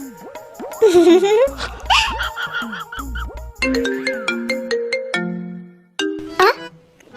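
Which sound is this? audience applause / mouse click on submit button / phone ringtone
phone ringtone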